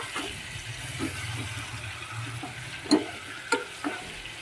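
Dal with lentils and spices stirred in a cooking pot, a soft steady scrape and simmer with a few sharper clinks of the spoon against the pot toward the end.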